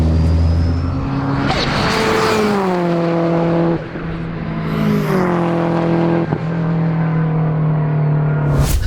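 A 600-horsepower Subaru GT Turbo accelerates from inside the car, its engine note climbing and dropping through several gear shifts, loud and close, with a brief rush of air noise.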